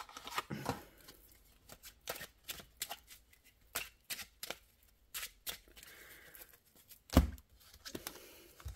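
Playing cards drawn and shuffled for a poker round during a French budget-envelope lottery game: a run of crisp, close card snaps and flicks in an irregular rhythm, with one sharper slap near the end and no talk.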